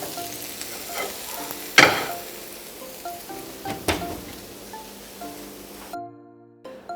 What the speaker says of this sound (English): once we've sauteed our fillings